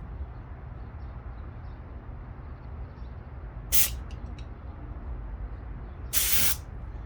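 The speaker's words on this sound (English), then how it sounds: "Take a little flathead and push down on this center Schrader valve." An air-conditioning system's Schrader valve pressed with a small flathead screwdriver: two short, sharp hissing bursts of escaping air, the second longer, standing out over a low steady background hum.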